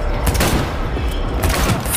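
A short, loud burst of overlapping gunfire and booms from the video game Cyberpunk 2077, with shots piling densely on one another.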